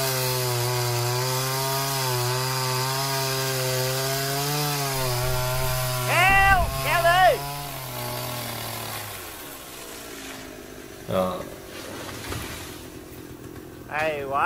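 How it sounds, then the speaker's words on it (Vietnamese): A chainsaw engine drones steadily while cutting through a coconut palm trunk, pitch wavering as it bites through the wood, then cuts out, leaving scattered rubbing and knocking sounds. "cưa bên đây để mở miệng bên kia rồi cưa bên đây."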